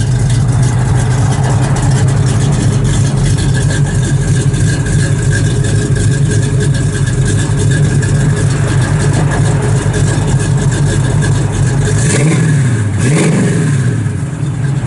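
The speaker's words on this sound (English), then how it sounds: "Got nice cam and stuff in the motor. Just a really good sounding driving car." A 1969 Pontiac Firebird with a cammed 400 engine idles with a loud, lumpy rumble near the microphone, then near the end it is blipped twice in quick revs that rise and fall.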